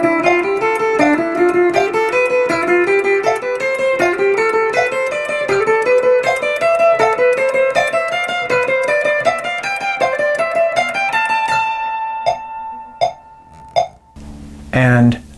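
An electric or acoustic guitar plays a fast picking exercise of steady sixteenth notes across the strings, moving through a rising pattern. Near the end it slows to a few single ringing notes and muted clicks.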